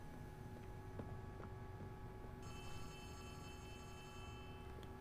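A telephone rings inside the Poppy Playtime Chapter 3 video game, a steady electronic ring tone from about midway that rises over a constant droning game ambience with no talking.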